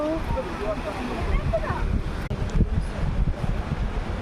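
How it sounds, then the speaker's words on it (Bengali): Sea waves washing onto a beach, a steady broadband wash with low rumbling surges and wind noise on the microphone, heard at close range with no one speaking. "সমুদ্র, এই দেখো কত ঢেউ।"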